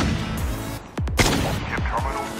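An SKS rifle in Call of Duty Mobile firing single shots: several sharp, close reports in quick succession, each trailing a falling ring over a steady loud game background.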